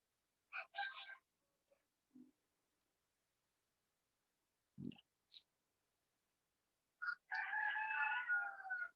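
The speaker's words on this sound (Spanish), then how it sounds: "estos gallos no son míos los gallos" Roosters crow twice, one short call early and a longer drawn-out crow at the end, with quiet gaps and a few faint clucks between them.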